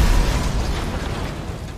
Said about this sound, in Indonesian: Meledak SPBU-nya.